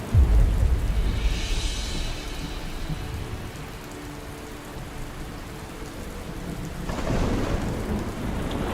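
Heavy rain pours steadily with a deep rumble of thunder at the start and another swell of rumbling toward the end, loud and close, with no voices.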